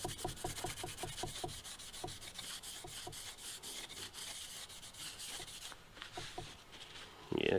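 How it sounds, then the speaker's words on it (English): A Scotch-Brite pad soaked with brake cleaner scrubs back and forth over a part during an engine teardown. The strokes are quick, rhythmic and faint, with a brief louder knock at the end. "Just thought I'd squirt a little brake clean on it and a Scotch-Brite and see what it does."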